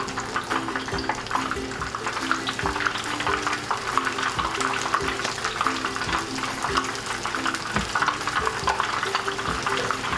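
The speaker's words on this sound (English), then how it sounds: "And fry them for a little over 1 minute on each side." Shrimp tempura fries in hot oil with a steady, close sizzle and crackle, continuous and even throughout, with no talking.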